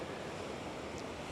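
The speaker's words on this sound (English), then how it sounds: "Hope you can hear me because it's quite windy." Wind blows at Easington Beach on the Holderness coast, a steady broadband roar with the sea close by, continuous and fairly loud with no talk.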